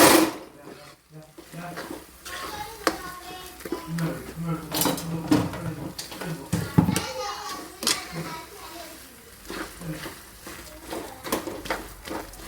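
Potato masala dosa filling stirred in a pan, with repeated clanking spoon-on-metal scrapes and knocks in an irregular rhythm, while voices talk in the background.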